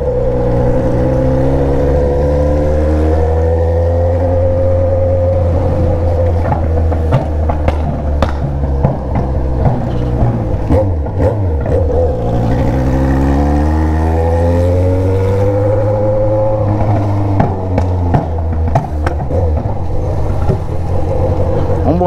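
Yamaha XJ6 motorcycle fitted with an Atalla straight-pipe exhaust, revving repeatedly, its loud, close engine tone climbing and falling in pitch through several sweeps, with a few voices underneath.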